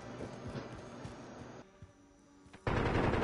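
Rapid bursts of automatic gunfire ring out in the Call of Duty Modern Warfare video game, dense and loud at first, a brief quieter pause, then a heavy sustained burst at the end.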